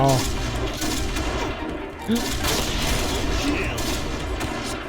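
Rapid gunfire in the Point Blank shooter game, fired at the ground, crackling in loud dense bursts with booming impacts throughout, a voice briefly audible underneath.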